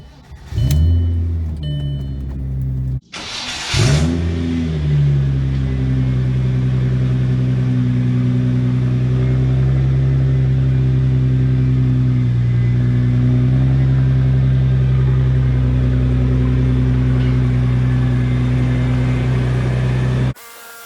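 An Audi B5 S4 being pulled out to be washed idles and rolls with a steady, low engine drone, close and constant after a brief cut-off at the start, with no talk.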